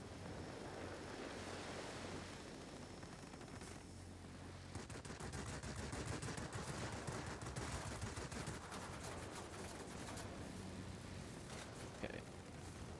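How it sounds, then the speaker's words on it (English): Gunfire aimed at the player's plane in World of Warplanes, bomber escort mode: bursts of rapid crackling shots over a constant rushing wind and engine wash, loudest in the middle stretch, with no talk. "Something is shooting at me that I don't want to be shooting at me."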